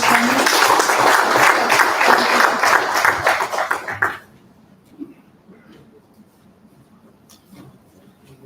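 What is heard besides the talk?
audience applause for Mr. Hemant Kulkarni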